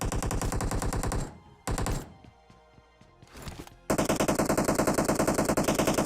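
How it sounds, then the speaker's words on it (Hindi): Rapid automatic gunfire from atop a tower in PUBG rattles in loud, dense bursts. It breaks off briefly, with a few isolated shots and thuds in the lull, then resumes at full intensity. "टावर के ऊपर से काफी देर से फायरिंग की साउंड आ रही थी"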